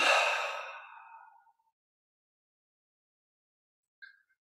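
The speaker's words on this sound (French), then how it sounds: "On détend tous les muscles et on expire en relâchant." A long, deep exhale during guided breathing meditation, close and breathy, fading out over about a second and a half, followed by silence and a faint brief sound near the end.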